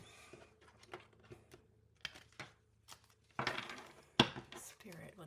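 Tarot cards are shuffled in short, close bursts of riffling and flapping, separated by quiet gaps, with a faint voice in the background.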